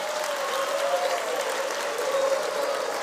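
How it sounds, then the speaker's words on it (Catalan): An audience claps steadily at a Valencian falla exaltation event, a soft, even patter of applause throughout with a faint sustained tone underneath. "Un aplaudiment, home."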